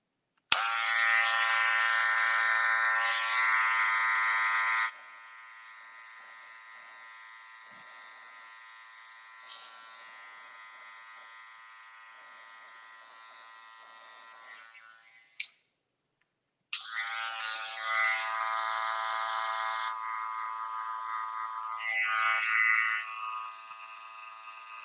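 Barber's electric hair clippers buzz loudly while cutting a skin fade with the lever set halfway, drop to a softer hum for about ten seconds, then roar back close-up after a brief pause; no one speaks.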